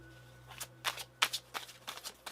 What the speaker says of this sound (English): I'm going to pull some other cards.